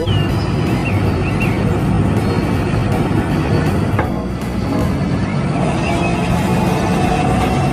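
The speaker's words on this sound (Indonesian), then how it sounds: "ini mobil truk membawa beko" A truck hauling an excavator on a road gives a loud, continuous engine and tyre rumble that holds steady the whole time, with broadband traffic noise around it.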